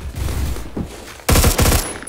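Gunfire from an AK-74 in the first-person shooter Phantom Forces rings out as a dense, loud burst of rapid shots, following a few softer muffled pops.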